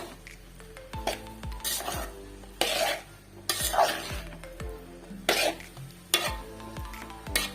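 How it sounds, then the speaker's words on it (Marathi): Schezwan fried rice with basmati rice being stirred in a pan: repeated scraping and clinking of a spatula against metal over a soft sizzle, in irregular strokes roughly every second. "आता हे सर्व मिश्रण आपल्याला एकत्र करायचं आहे"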